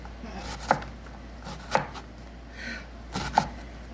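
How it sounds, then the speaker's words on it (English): A knife chops through an onion on a cutting board in three separate sharp knocks, spaced about a second apart, close and fairly quiet in a home kitchen. "So just give that a chop, and then that's your onion."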